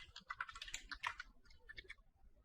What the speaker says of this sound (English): I'll just type test user, it would be the name